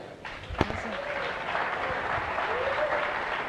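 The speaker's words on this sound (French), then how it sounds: "Come on, leaders, clap your hands" Leaders in a large audience at a leadership talk clap together, a broad, sustained wash of applause from many hands with a few voices rising above it.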